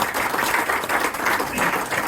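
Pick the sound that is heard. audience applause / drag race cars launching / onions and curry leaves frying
audience applause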